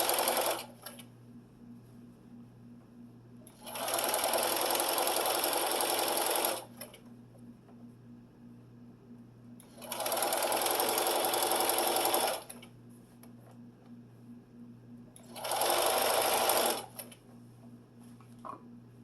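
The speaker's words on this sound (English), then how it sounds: "we're sewing on that first strip using a 1/4 inch seam allowance." A sewing machine stitches a fabric strip for a quilted table runner with a quarter-inch seam, running in three steady bursts of a few seconds each. Quiet pauses fall between the bursts under a faint constant hum.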